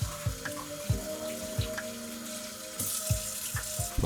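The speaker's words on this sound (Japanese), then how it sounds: "食洗機があるのに手洗いでついつい洗ってしまったりとか、洗うときはお湯じゃないと嫌とか" Dishes are washed by hand under a running hot-water kitchen tap, with steady splashing water and light clinks of crockery, close and moderately loud.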